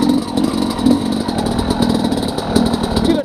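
A motorcycle engine fitted with a SmartCarb SC2 carburetor runs close by at low RPM, giving a loud, steady, slightly pulsing drone with small rises in level.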